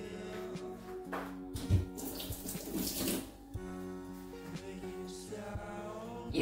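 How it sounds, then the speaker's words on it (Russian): A small spoon is rinsed under a kitchen tap, the running water splashing steadily and close by with some clinks and shifts in the flow. "Сейчас только ложечку быстро мою."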